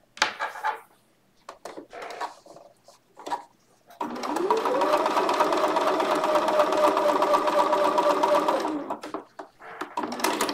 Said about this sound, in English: I'm just stitching over my line of stitching three, four, or five stitches.